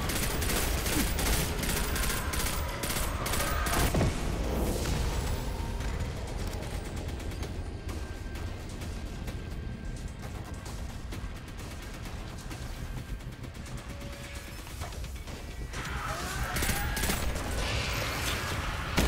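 Dense, rapid gunfire bursts with mechanical clatter in the video game Destiny 2, loud and continuous, easing off in the middle before picking up again toward the end.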